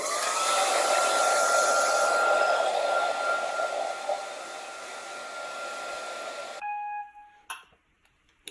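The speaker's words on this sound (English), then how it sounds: "I used a hairdryer to let this dry." A hair dryer blows steadily with a high whine for several seconds, then switches off abruptly, followed by a couple of faint clicks.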